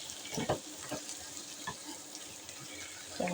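Chicken pieces browning in a frying pan for chicken croquettes give a steady hissing sizzle with a few sharp clinks and stirring knocks, close by and without talk.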